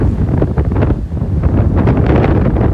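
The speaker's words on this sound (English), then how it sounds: "the gusty winds picking up" Strong gusty wind during a severe thunderstorm in southern Michigan buffets the microphone with a loud, rumbling roar that surges and eases continuously, with no voices.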